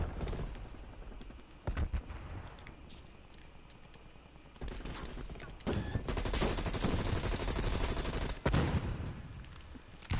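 Gunfire in Call of Duty: Cold War, with loud bursts and volleys of shots coming in clusters around the second, sixth and eighth-to-ninth seconds over a steady game bed, a bit of talk mixed in.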